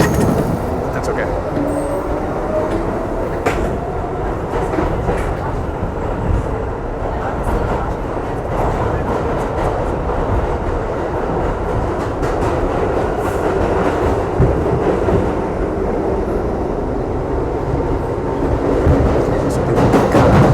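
A New York City subway train runs loud and close from inside the car, a continuous rumbling roar with rhythmic clickety-clack of the wheels and metallic squeals throughout.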